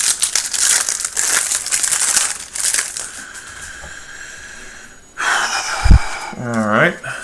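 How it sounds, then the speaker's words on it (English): Cardboard packaging on a Theros Beyond Death card bundle is torn open in close, loud crinkling and ripping bursts, with someone talking and breathing heavily between the tears. "And then you have all this cardboard to try to get through to get to them"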